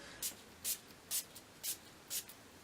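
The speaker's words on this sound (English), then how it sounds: "So I'm just going to spray this all over." Five quick, soft spritzes of a facial mist spray bottle, evenly spaced about half a second apart, close and otherwise quiet.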